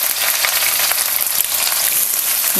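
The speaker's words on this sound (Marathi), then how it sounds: "आता आपण ह्यामध्ये घालूया कांदा ब पातळ चिरणी ते कांदा आपल्याला ह्यामध्ये घालायचा" Thinly sliced onion hitting hot oil with whole spices in a pan for a village-style spicy mutton sukka, a loud steady sizzle and crackle that runs continuously throughout.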